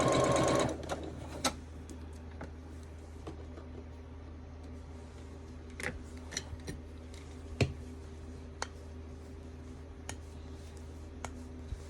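Sewing machine stitching quilt pieces, with scraps for an Irish chain quilt fed through as leaders and enders. A steady mechanical whir runs throughout, with scattered clicks and ticks and a brief louder burst at the start, and no talk.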